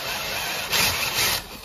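A drill boring a shallow hole into a wooden flower pot stand, a steady rough grinding whir that surges twice, close and continuous with no talk.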